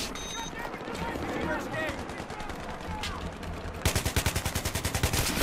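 Battlefield 3 multiplayer gunfire crackles in bursts under a player's talk, ending in a loud, rapid run of evenly spaced shots close by.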